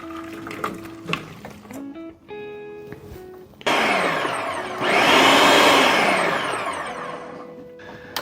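Hot shrimp stock pours through cheesecloth and a strainer into a small pot, a loud rising liquid splash and gush after a few clinks of cookware.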